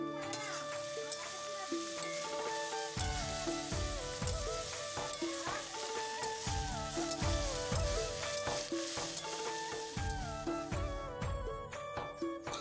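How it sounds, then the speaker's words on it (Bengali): Small local potatoes fry in a pan with a continuous sizzle, broken by stirring clinks and ticks that repeat over the stretch. Harmonic tones run steadily underneath. "এদিকে একদম ছোট্ট ছোট্ট দেশি আলুগুলোকে ভাজা বসিয়েছি"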